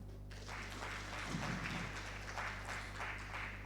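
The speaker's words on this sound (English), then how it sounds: "Please, let's clap for him." An audience at a migrant dialogue opening ceremony applauds in a large hall, a steady wash of clapping heard faintly over a low constant hum, with swells in the middle and toward the end.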